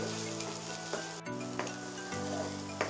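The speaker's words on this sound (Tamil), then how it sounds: "இத நம்ம நல்லா வதக்கிரலாம்." Chopped garlic, ginger, onion and green chili fry in a pan with a steady crackling sizzle, close up, along with faint stirring scrapes and a sharper clink of utensil against pan at the end.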